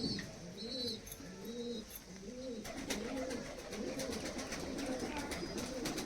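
Pigeons coo in a steady rhythmic series of low, rolling calls, close by in a loft, with faint chirping and rustling underneath.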